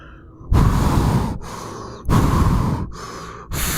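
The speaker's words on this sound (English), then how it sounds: "The short opened with heavy breathing." Heavy breathing opening a short about cars: loud, close, rhythmic breaths, three long noisy inhales or exhales alternating with shorter ones and brief pauses between.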